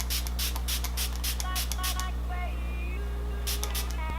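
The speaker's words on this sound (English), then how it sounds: "So I'm just going to be using the same Smashbox Photo Finish Primer Water, and I'm just going to be spritzing my face" Several quick bursts of Smashbox Photo Finish Primer Water setting spray hiss from a pump bottle onto a face, a rapid run of short spritzes followed by a pause and two more puffs, over a low steady hum.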